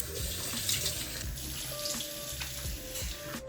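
Tap water runs steadily into a sink during face washing, a soft continuous splashing stream heard close up, fairly quiet and without talk.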